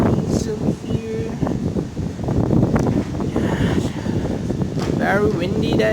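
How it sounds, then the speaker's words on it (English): Strong gusts on a very windy day buffet the microphone outdoors with a loud, continuous low rumble and roar that rises and falls for several seconds. "Very windy day."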